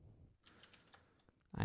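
Quiet, close tapping on a computer keyboard as a short command is typed, a sparse run of light keystrokes followed by a louder knock at the end.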